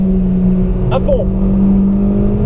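A car engine drones steadily at full throttle on the Nürburgring, a loud, continuous in-cabin hum with a short spoken instruction over it midway.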